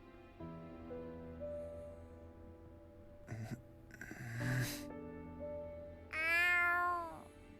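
Cats meow in a room, with a short, faint cry partway through and then a loud, drawn-out meow near the end, over a soft background tone.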